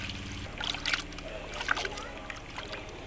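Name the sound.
water poured to rinse fish in a clay pot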